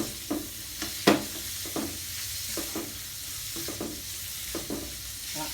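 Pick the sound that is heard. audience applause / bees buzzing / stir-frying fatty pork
stir-frying fatty pork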